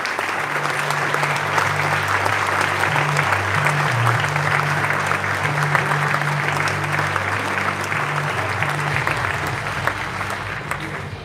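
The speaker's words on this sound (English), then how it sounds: "Big applause for Marco Bezzecchi, 20 years old from Italy" An audience at a KTM MotoGP team presentation applauds a young Italian rider, sustained loud clapping with a steady crowd hum that carries on for the whole stretch.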